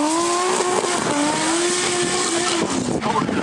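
A race car passes at qualifying, its engine a sustained high whine that slides down in pitch as it goes by. A commentator talks over the sound.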